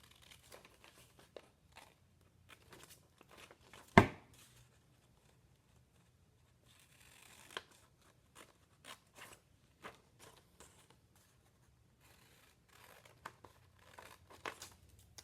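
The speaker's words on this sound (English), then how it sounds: "now I need to take my scissors and I'm going to go on those lines that I drew" Scissors cut paper along drawn lines in a quiet room, with many brief, faint snips and crinkles and one sharp clack near the start.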